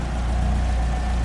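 Small four-cylinder engine of a 1967 MG Midget Mark II convertible idles steadily in the open engine bay, a constant low rumble with no revving and no talk.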